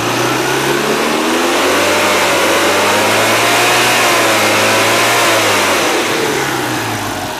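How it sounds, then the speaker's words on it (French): A Citroën 2CV 760 cc Ormep flat-twin engine revs up and holds a raised, steady, buzzing drone for the whole stretch. It stays loud and close, with no talk over it. "Et si on accélère le moteur,"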